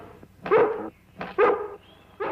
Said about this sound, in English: Call up your dog. She'll tear you to pieces.